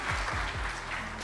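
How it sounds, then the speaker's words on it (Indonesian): An audience at a Christian church gathering claps together, producing a steady, dense burst of applause that holds evenly for just over a second. "Kasih tepuk tangan sekali lagi."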